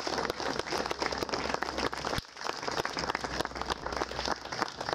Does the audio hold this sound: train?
no